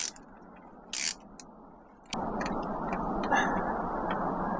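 A ratchet with a spark plug socket cracks loose a spark plug on a supercharged 4Runner engine: a few sharp clicks and short metallic bursts up close, then a steady rougher grinding rasp.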